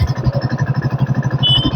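A Royal Enfield Electra motorcycle engine idles close by with its thumping single-cylinder beat, an even, rapid pulse that picks up slightly near the end, and no voices.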